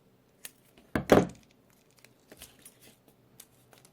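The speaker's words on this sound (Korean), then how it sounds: "끝부분을 살짝 대각선으로 잘라주세요." Scissors cut paper diagonally at the tip of a part for a paper-craft missile model: one short, close crunching snip, surrounded by faint clicks and rustles of paper.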